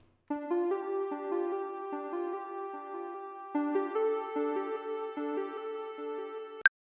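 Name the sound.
Moog Minitaur synth lead with delay, distortion and reverb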